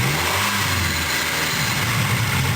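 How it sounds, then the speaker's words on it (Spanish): A car engine revved during a sensor test with an oscilloscope, loud and close, holding a steady, raspy roar with no one speaking. "Acelerando el motor"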